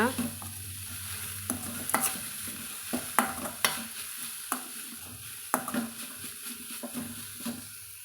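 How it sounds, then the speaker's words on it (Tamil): Beetroot stir-fry with grated coconut being mixed in a pan, a steady run of spatula scrapes and knocks over a faint sizzle, close and fairly loud, with no talking. "இப்போது நம்ம தேவையான அளவு தேங்காய் துருவல் வந்து இது கூட சேர்த்துக்கலாங்க. சேர்த்துட்டு கலந்து விட்டுக்கலாங்க."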